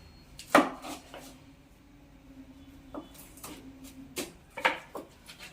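A jackfruit being cut with a knife: a few sharp chopping strikes near the start and end, with softer cutting and handling sounds between, close and fairly quiet with no talk.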